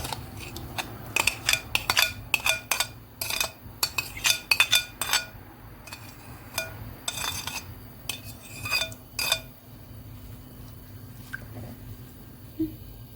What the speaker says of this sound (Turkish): Soğanları kavuruyoruz. Biz hemen karıştırıyoruz.